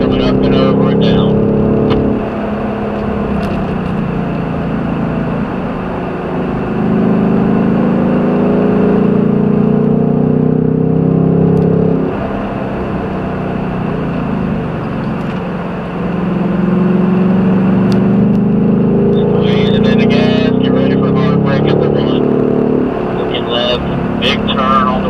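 A Ford Mustang on a road course, its engine note rising and falling in long surges as it accelerates and eases off, with an instructor's voice talking over the loud, steady drone.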